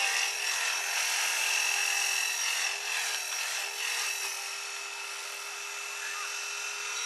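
A GAUI X3 radio-controlled helicopter on its maiden flight whines steadily and close by, with sustained high-pitched motor and rotor tones that ease slightly toward the end.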